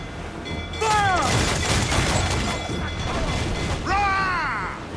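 Cannon broadside from sailing ships in a naval battle in Assassin's Creed Black Flag, a dense rolling barrage of booming shots under voiced commands and game chatter, loud and sustained throughout.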